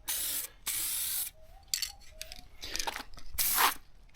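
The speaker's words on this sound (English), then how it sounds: "spray painting with a can, you know, light coats and all that kind of stuff" Bursts of an aerosol spray paint can laying down coats, several loud hissing sprays of varying length separated by short gaps with faint handling noises between them, close to the microphone.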